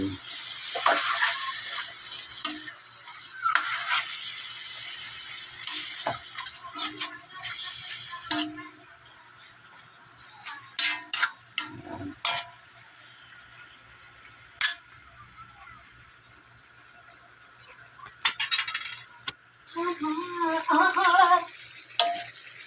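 A spoon stirs adobo chicken in a pan, giving sparse scraping and clinking strokes over a steady high sizzling hiss, with brief bursts of talk near the end.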